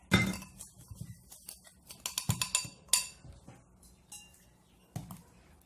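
Homemade lightening body scrub mixture stirred in a bowl, with a spoon clinking and tapping against the sides in a quick irregular run, then sparser single knocks, close and fairly quiet.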